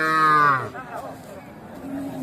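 A cow moos loudly and close at a busy cattle market in Charmonai, Barisal, a long lowing call with a calf nearby, followed by crowd chatter and voices talking.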